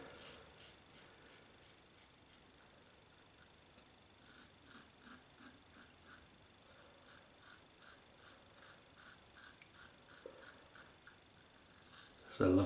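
Merkur Vision double-edge razor scraping across stubble in a steady series of short rasping strokes, faint at first and growing louder and more rhythmic, with a brief clatter at the end.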